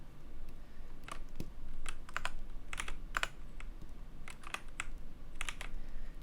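Keys clicking on a computer keyboard during 3D modelling work in Blender, a steady run of light, close taps in small bursts, with no talking.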